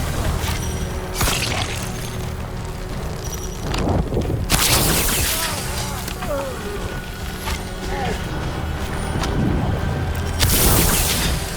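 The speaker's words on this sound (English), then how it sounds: "They've got mortars!" Mortar fire in the fantasy video game Dragon Age: The Veilguard, with heavy booming blasts and crashing impacts landing over a dense, constant battle din of clanking and debris.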